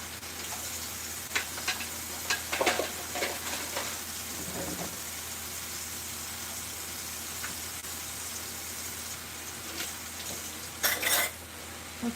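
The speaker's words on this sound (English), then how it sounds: "Let's clean this dish." Dishes being washed in a cooking video game: scattered clinks and clatters of plates and cutlery over a constant background hum, with a louder burst of rattling near the end.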